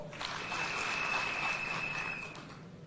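Applause from a crowd at an outdoor Kenyan political rally, a steady, moderately distant wash of clapping that swells and then fades away, with no talking over it.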